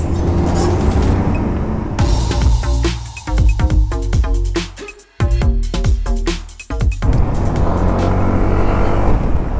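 A Yamaha NMAX 155 ABS scooter weaves through city traffic, its engine and road noise loud and close throughout, with a brief dip midway before the steady roar returns. No one speaks.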